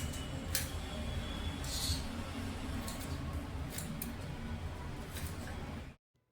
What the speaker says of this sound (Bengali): এখন আমি আগে এই যে ক্যাপসিকামগুলো কেটে নিচ্ছি